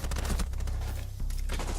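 Rapid gunfire bursts in a Rainbow Six Siege esports match on the Clubhouse map, a dense loud volley with low booming thumps that drops out briefly before another burst resumes.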